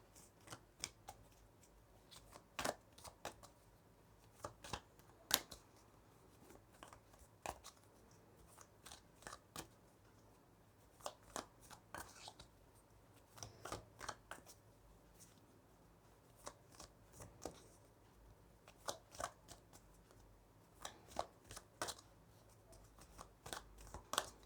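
Tarot cards are shuffled again and again in soft, crisp bursts of riffling and flicking close by, scattered through a quiet room with no talk.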